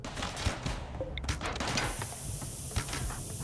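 In the RimWorld video game, mini turrets and a shooting group fire steady, rapid muffled shots over a busy rumbling background, with no voices in between.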